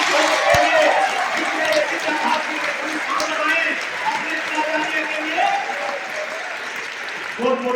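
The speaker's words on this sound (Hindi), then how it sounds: "एक बार जोरदार तालियां गुरुजनों के लिए" Schoolchildren at a girls' school clap loudly for their teachers, a dense, sustained burst of applause from a large group, close and energetic, with voices of the crowd mixed in throughout.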